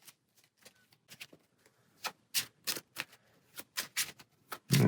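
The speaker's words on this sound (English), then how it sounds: "And we'll get an encounter card and shuffle." A deck of Marvel Champions encounter cards is shuffled close up: quiet, irregular bursts of riffling and snapping cards, building to a louder final flurry.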